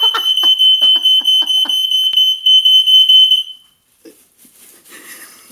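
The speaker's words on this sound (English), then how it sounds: "And that's the timer." A kitchen cooking timer goes off with a loud, rapid series of shrill electronic beeps over about three seconds, then stops, leaving faint room noise.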